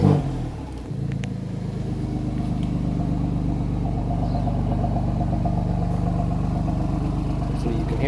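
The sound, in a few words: Alfa Romeo car engine revving with exhaust open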